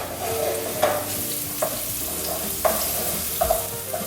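Chicken stir-fry for Thai pad kra pao sizzles steadily in a pan over medium heat, broken by several soft scraping stirs of a utensil spaced about a second apart.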